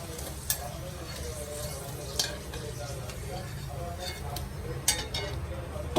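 Raw papaya pieces sizzle in hot oil in a pan for kappaka fry, a steady crackling fry under repeated scraping stirs and a few sharp utensil clicks.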